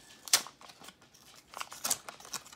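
Scissors snip open a sturdy blind box bag of TokiDoki Marvel Frenzies figures, a few close, sharp cuts with faint crinkling of the plastic between them.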